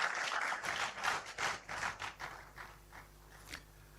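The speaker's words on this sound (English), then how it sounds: "Oh, I thought you would clap for me." An audience claps for a professor at a university inaugural lecture, starting as lively scattered applause that thins into a few separate claps before fading out.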